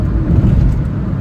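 A Daihatsu Mira Gino cruises at about 60 mph on a highway, heard from inside as a steady, loud low rumble of engine and road noise with no talk.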